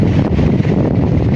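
Steady, loud wind buffets the microphone outdoors in Baguio, making a low rumbling roar with constant gusty rustle throughout.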